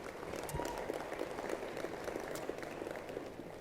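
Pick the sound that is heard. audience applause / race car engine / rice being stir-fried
audience applause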